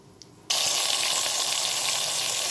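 Ground spice paste tipped into a pan of hot oil with whole garam masala while a fish curry cooks, bursting into a sudden loud, steady, close sizzle that keeps going after a quiet start.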